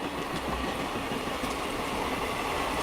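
Shekhpura–Anand Vihar Terminal Holi Special with blue ICF coaches rolling past, a continuous close rumble of wheels and rail noise with faint rhythmic clatter, filling the whole stretch without talk.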